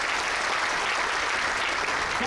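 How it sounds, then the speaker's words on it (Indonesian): A church congregation applauds in one loud, dense burst of clapping that holds steady for a couple of seconds. "Tepuk tangan bagi Tuhan"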